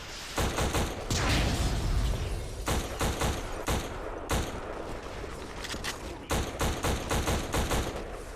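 Bursts of automatic gunfire from the shooter video game Black on Xbox One, loud and close, with rapid rattling volleys broken by short pauses and single shots.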